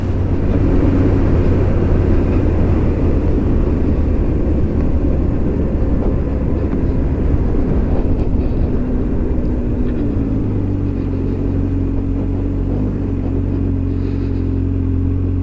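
Kawasaki Ninja H2 SX SE motorcycle with a 197 bhp engine pulling away, a loud, steady low engine rumble close by that shifts pitch and settles lower about two-thirds through.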